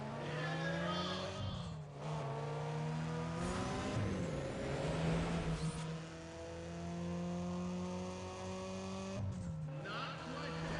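Race car engines in the Need for Speed ProStreet video game revving and droning with rising and falling pitch, joined by bursts of tire squeal, moderately loud and continuous, with a voice speaking over them.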